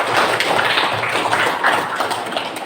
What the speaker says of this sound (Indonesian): Beri aplaus dulu untuk teman kita.